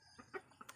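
Pet chickens at a farm hut give a few soft, short clucks, close by against a quiet background.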